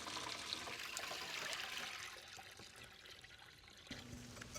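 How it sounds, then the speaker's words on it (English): Brine is poured over a ham in a large container, a soft, steady splashing and trickling of liquid that tapers off and stays faint, with no talking. "pour the remaining brine on top"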